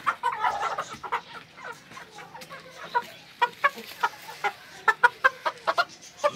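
An Aseel rooster clucks repeatedly in short, sharp bursts, close and fairly loud, with a quicker rhythm of clucks toward the end.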